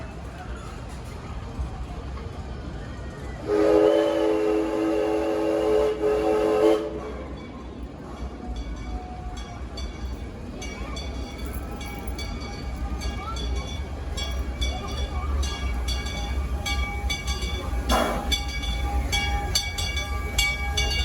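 A theme park train whistle, at Six Flags Over Texas, sounds in a long steady blast over the rumble and clatter of the rolling train, with a brief second tone later; the whistle is loud and close.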